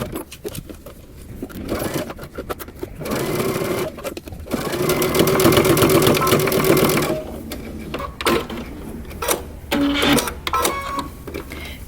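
A sewing machine stitches around a coat sleeve at a 5/8-inch seam allowance in quick bursts of rapid mechanical whirring, broken by pauses, fabric handling and small clicks, with one longer steady run in the middle.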